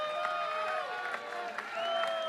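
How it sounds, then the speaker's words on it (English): A softball crowd in Florida rises and cheers during a tense full-count at-bat against Auburn, a steady wash of voices, whistles and scattered clapping under a commentator's talk. "Crowd sensing the moment rises to its feet."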